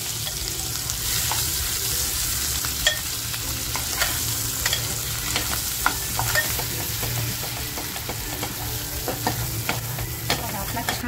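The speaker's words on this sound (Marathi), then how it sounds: "तेल टाकते आणि जो मसाला बनवून घेतला होता तो मसाला टाकते" Spice masala sizzles and crackles in hot oil as it is stir-fried for Kolhapuri-style dry mutton, a steady close frying hiss with the scrape and tap of a spoon against the pan.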